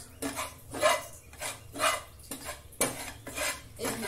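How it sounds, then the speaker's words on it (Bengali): Gram flour (besan) is stirred in a hot pan, with a spatula scraping and clinking against the metal in repeated strokes about every half second, loud and close with no talk. "এটাকে হালকা করে ভাজবো।"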